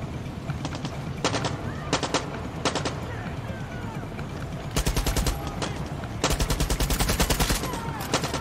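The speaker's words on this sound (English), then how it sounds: "They're just shooting from there." Enemy gunfire in Far Cry 6 comes as repeated rapid bursts, some at a distance and others longer and louder, over steady game ambience. A person talks at points in between.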